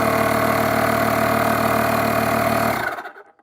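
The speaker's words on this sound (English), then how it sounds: "It sounds like your traditional compressor." An all-purpose 50 PSI SUP pump and inflator switched to car tyre compressor mode runs with a steady, loud mechanical drone and vibration for nearly three seconds, then winds down and stops.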